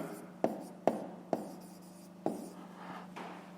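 A pen writes out the answer to a fifth-grade math exercise: soft scratching over a steady low hum, broken by four sharp taps spaced irregularly, close and fairly quiet, with no talking.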